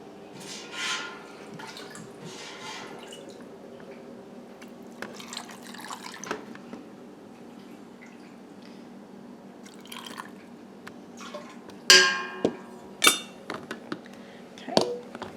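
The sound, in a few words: ladling ham stock into canning jars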